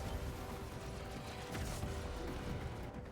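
Gunfire aimed at a turret in the video game Warframe: dense, continuous rapid shots blending into a steady fusillade over mechanical game noise throughout.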